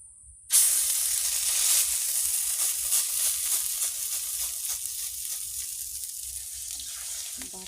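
Lentil fritters dropped into a hot wok of oil, bursting into a sudden loud sizzle that settles into a steady hiss and slowly fades, no one speaking.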